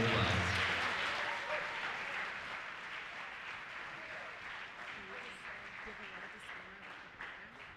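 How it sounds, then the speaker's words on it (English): Faint, fairly distant applause from a school reception audience, strongest at the start and slowly tapering, with some voices mixed in. "Please give another round of applause."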